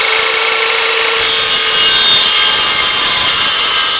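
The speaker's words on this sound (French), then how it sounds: "scie radiale" A radial saw cuts through a glued parquet floorboard, making a loud, harsh, continuous rasping whine up close that grows rougher and fuller partway through the cut.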